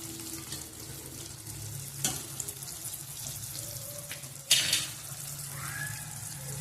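Turmeric and spices hitting hot oil in a pan for dal, giving a gentle, continuous sizzling hiss broken by a couple of brief splashy bursts and a short clink.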